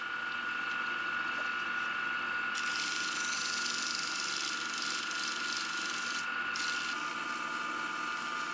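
Steady high-pitched whirring of a small power sander grinding a wooden ring with dot inlay and desert ironwood, continuous and close, with a brief dip before it resumes.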